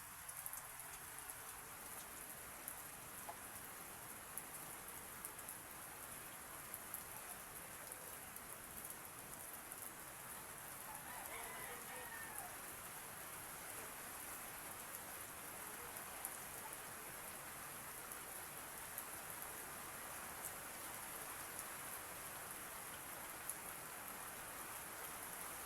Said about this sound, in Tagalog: At umulan dito